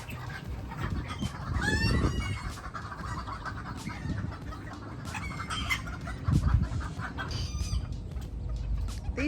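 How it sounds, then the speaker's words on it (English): Guinea fowl call alongside chickens in a farmyard, their harsh repeated cries mixing with clucking and rooster-like calls at close to mid range over steady outdoor noise. "These are the guineas."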